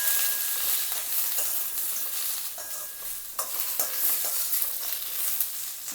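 Onion and coconut pieces roasting together in a pan for dum aloo masala, giving a steady, bright dry sizzle and crackle with occasional stirring scrapes, close and continuous without talk.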